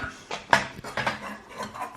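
Metal camping cookware, nested pots, pans and a kettle, clanks and rattles at close range as pieces are pulled apart and set down, with several sharp knocks and lighter scrapes, no talking.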